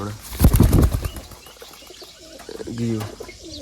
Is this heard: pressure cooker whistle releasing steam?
no